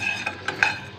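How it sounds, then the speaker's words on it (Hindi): Crushed red chili is stirred and lightly roasted in a pan for chana chaat, with a few quiet, scraping strokes of a spoon against the metal over a soft sizzle and no talking. "तो कुटी मिर्ची शामिल कर इसको भी हल्की सी रोस्ट कर लेंगे।"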